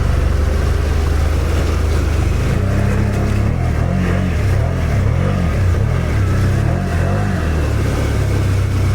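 A Can-Am Outlander 1000R ATV on 34-inch tires plows through a mud hole in two-wheel drive, its engine roaring loud and close with steady revving that swells and dips as it churns through the muck.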